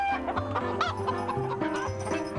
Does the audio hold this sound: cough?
no